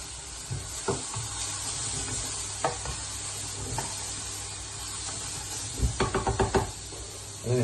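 Onions and mushrooms fry in a pan with a steady sizzle, broken by scattered knocks and a quick run of utensil taps near the end.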